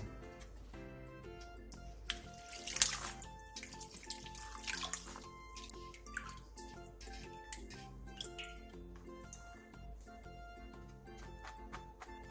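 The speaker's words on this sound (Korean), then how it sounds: "숙주는 찬물에 헹군 뒤 물기를 충분히 빼놔주세요." Mung bean sprouts being rinsed in cold water, with soft splashing, trickling and scattered drips as the sprouts are handled in the water, fairly quiet and close, with no speech.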